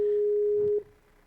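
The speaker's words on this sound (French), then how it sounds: "j'attends que Elisette décroche son téléphone" A telephone ringback tone plays while a call waits to be answered, one steady electronic tone cutting off abruptly, then quiet line hiss.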